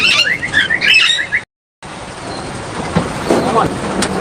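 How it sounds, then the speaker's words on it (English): A golden pheasant in a garden gives a burst of sharp, squawking calls at close range, then goes quiet while faint outdoor background noise carries on. "So he's a golden pheasant."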